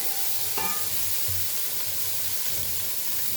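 Pork frying without oil in its own rendered fat for a Goan pork pulao, a soft, steady sizzle and hiss with a faint clink of a utensil, fairly quiet and close.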